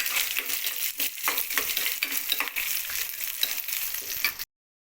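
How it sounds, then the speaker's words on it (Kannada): Green chillies and peanuts sizzle and crackle in hot oil for lemon rice, a steady close frying hiss with stirring clicks, then cutting off abruptly. "ಹಸಿಮೆಣಸನ್ನು ಹಾಕೋತಿದ್ದೀನಿ, ಶೇಂಗಾ ಬೀಜನ ಹಾಕ್ತಾ ಇದ್ದೀನಿ"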